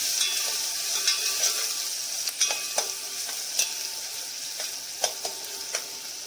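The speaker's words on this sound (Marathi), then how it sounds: "आता आपण कांदा टाकत आहोत कांदा थोडा नरम होऊन द्यायचा आहे लसूण टाकलेला आहे मिक्स करून घ्यायचं" Onion and garlic sizzle and fry in a pan, with a steady hiss broken by frequent scraping stirs of a utensil, close and fairly loud, and no talking.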